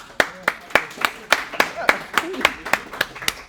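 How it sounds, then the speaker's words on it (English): Students in a university programming lecture clapping together in a steady, evenly spaced rhythm of about a dozen sharp claps, close and loud, with a voice talking over them. "Clap that."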